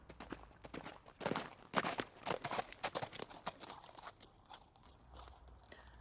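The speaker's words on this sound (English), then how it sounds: "he heard the sound of horses' hooves." Hooves clip-clop in a steady rhythm, fairly close and clear, several quick strikes with a light crunchy texture, no voices.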